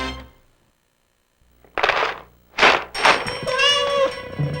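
A cat in a 1994 Friskies dry cat food TV advert meows several times after a brief quiet gap, giving loud, close, drawn-out calls with the last one long and tonal.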